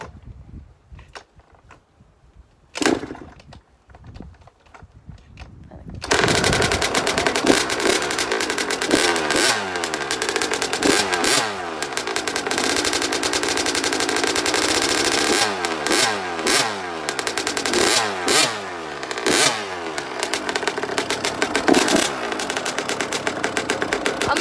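A KTM 50 motorcycle engine starts after a few quiet seconds and then runs loud and close, a buzzy two-stroke drone with repeated sharp revving swells rising and falling over the rest of the clip.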